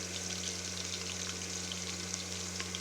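Onions fry in a pan for tomato rice, giving a soft, even sizzle that runs throughout over a low electrical hum, with no one speaking.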